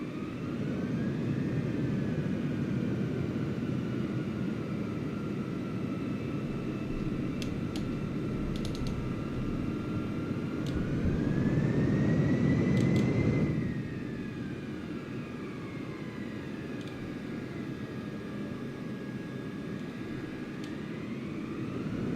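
A simulated airliner rolls off the runway in Microsoft Flight Simulator 2020, arriving at KIAD, with a steady loud jet engine whine and rumble that swells briefly then drops to a lower hum, with faint clicks.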